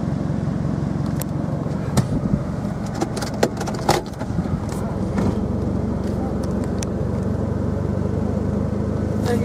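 A car is driven around a building, with a steady engine and road rumble throughout and a few faint knocks and rattles. Nobody speaks.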